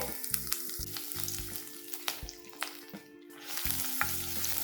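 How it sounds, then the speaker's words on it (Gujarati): A spoonful of garlic sautés in ghee left in the pan after pan-frying paneer. A close, steady sizzle is broken by sharp spatula clicks and scrapes, with a brief lull near the end and no talking. "હવે એ જ ઘીમાં આપણે એક ચમચી લસણ એડ કરીએ છે"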